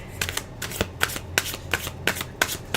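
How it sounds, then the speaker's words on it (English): Tarot deck being shuffled with cards spilling, a close run of quick riffling flutters and soft slaps at a fairly regular pace, with no talk. "Cards are spilling."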